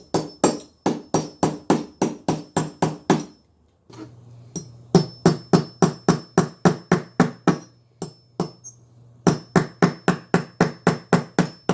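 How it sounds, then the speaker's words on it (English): Steady, loud hammer blows ring out in quick rhythmic runs while fixing a broken wooden footstool leg, with a brief pause partway through and a faint hum in the background. "And then, of course, you're going to need a hammer."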